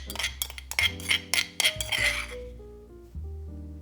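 Crushed hot sauce ingredients clatter into a sterilized glass jar, with a quick series of clinks and knocks followed by a few ringing glassy tones that fade away.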